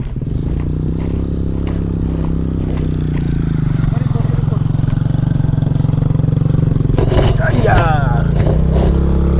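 A small boat motor runs steadily nearby on a flooded fishing spot, a continuous low droning hum that grows slightly louder partway through, with brief clattering noises near the end.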